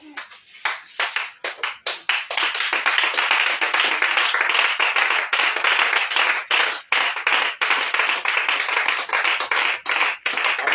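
A congregation at a prayer meeting claps steadily and loudly in acclaim of Jesus, many hands beating a fast, sustained rhythm with brief gaps between bursts.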